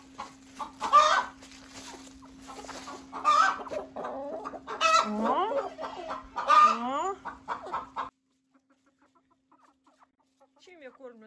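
A crossbred hen clucks close by in a poultry yard, a run of repeated clucks and squawks in bursts over a steady hum, then near silence with faint bird sounds at the end.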